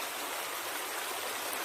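Steady broadband rush of the Maragondon river flowing, a continuous even wash of water noise with no pauses and no one talking.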